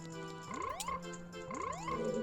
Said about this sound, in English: And my low heart sound is frogs.